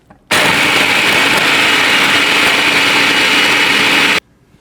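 A blender grinds graham crackers with oil and a tablespoon of coconut oil into a cheesecake crust, giving a loud, steady whirring roar for about four seconds with no voices.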